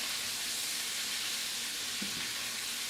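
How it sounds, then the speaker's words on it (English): Shredded cabbage frying in bacon grease in a pan gives a steady, close, bright sizzle and hiss that holds evenly throughout, with a faint stir partway. "You can hear that sizzle."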